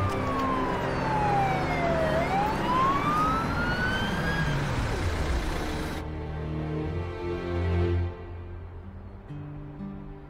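Old ambulance siren wailing loudly in a Russian rescue drama, its pitch sweeping down then rising, then shifting to a steadier tone as the vehicle seems to pass and fade, with traffic rumble beneath and no speech.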